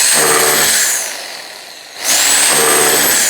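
An SDS Plus narrow chisel bit hammers against masonry, a loud, dense rattling drive that runs, eases off briefly, then starts again.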